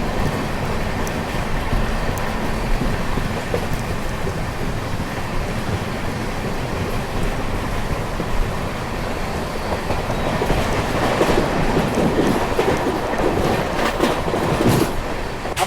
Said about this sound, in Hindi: ट्रेन जो है वो कंटिन्यूस 130 की रफ्तार में चल रही है तब से